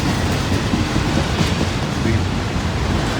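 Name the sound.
train rolling through a road crossing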